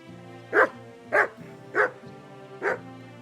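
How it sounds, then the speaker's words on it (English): A dog barks four times at an even, unhurried pace in Kingdom Come Deliverance 2, each bark loud and close over a steady low background drone, with no voices. "Call that dog to heel!"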